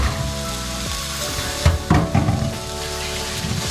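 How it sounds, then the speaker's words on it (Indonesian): Carrots, potatoes and green beans stirred together in a sizzling pan for a curry pastry filling, with a continuous fry hiss and a few louder scraping, clattering strokes in the middle. "Kita masukin semua ingredientsnya, si wortelnya, kentangnya, buncisnya masukin aja. Kita aduk bersama-sama."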